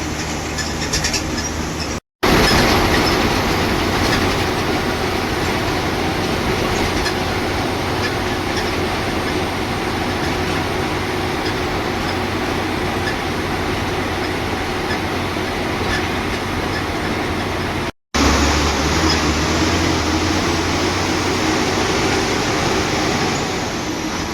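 Inside an MSRTC Lal Pari bus on the highway between Mangaon and Mandangad: a continuous loud engine drone and road rumble with rattling, steady throughout apart from two brief cuts.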